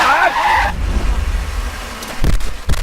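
A car in a movie chase screeches with squealing tires at the start, then engine rumble and thuds follow in a busy action mix.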